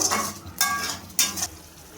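Fried potatoes are stirred and sautéed in masala for a soybean kofta curry, with three loud scraping sweeps of a spatula across the pan over a soft sizzle, close by.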